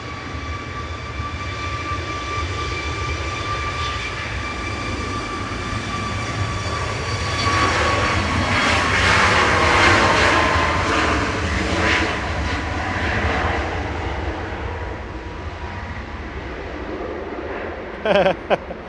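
A Ryanair jet airliner departs Manchester Airport bound for Palma, a long rising and fading engine roar with a distinct whine, peaking mid-clip then trailing off, with brief knocks near the end.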